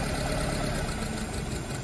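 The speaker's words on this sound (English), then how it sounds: "It's trying to stop the engine. Engine RPM drops and it starts fluctuating." A car engine idling rough with cylinder two disabled, a loud, continuous uneven knocking chug close by that wavers throughout, with no talking.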